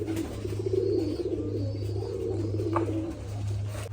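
Pigeons coo nearby in soft, low, rolling calls that repeat over a steady background hum, with no talking.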